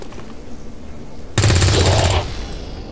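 A soldier's rifle shot in the video game XCOM erupts as a sudden loud burst of rapid gunfire partway through, lasting under a second before cutting back to a quiet background hum.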